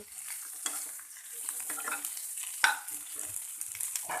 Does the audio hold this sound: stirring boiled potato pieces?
yes